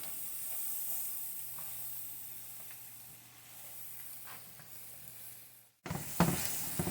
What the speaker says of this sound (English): what I'm doing now is just getting that flour cooked in with that butter